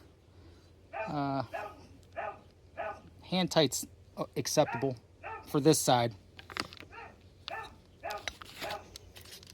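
Dog barking and whimpering in a workshop while a propane melting furnace kit is assembled, a few sharp yips mixed with a man's speech throughout.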